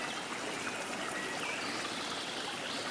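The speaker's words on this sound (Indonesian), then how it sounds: "Selanjutnya kita tambahkan air perasan lemon." Squeezed lemon juice poured into a glass holding tomato, a steady, even trickle of liquid running for a few seconds, close and moderately quiet with no talking.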